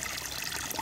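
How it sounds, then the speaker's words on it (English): Fresh water from a hose runs into goat water pans in a goat pen, a steady close splashing trickle and pour with no talk. "And I get them two nice big pans full of fresh water here."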